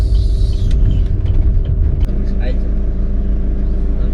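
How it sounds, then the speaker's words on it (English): Steady low engine rumble and road noise inside a Chevrolet Cruze crawling along in first or second gear, loud and continuous with a constant drone throughout. "I'll be driving in first, second gear only"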